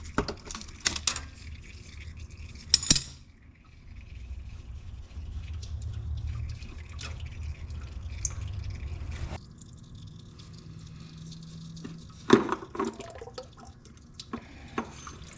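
Oil drains from a Kubota B2650 tractor during its 400-hour service, a soft steady trickle broken by occasional sharp clanks and drips, fairly quiet and close.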